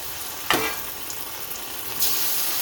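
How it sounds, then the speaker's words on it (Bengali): Boiled taro pieces fry in hot oil with a steady, close crackling sizzle, punctuated by two louder bursts as pieces are turned or stirred; no voices. "ভেজে নেবো কচুটাকে ভালো করে"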